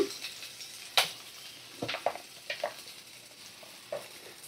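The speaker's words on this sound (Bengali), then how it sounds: "পেঁয়াজটা একটু ভালো করে ভাজা করে নেব" Onions frying in a pan over a medium flame while an egg dish is cooked, giving a soft steady sizzle with a few sharp stirring clicks and scrapes scattered through it, fairly quiet and with no talking.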